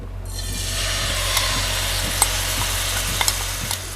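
Chicken sizzles as it hits 2 tablespoons of hot oil in a pan, a loud, steady frying hiss with occasional clicks and scrapes from stirring.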